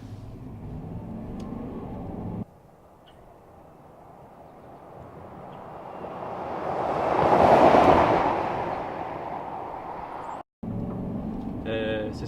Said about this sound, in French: on entend vraiment les pneus par rapport à la route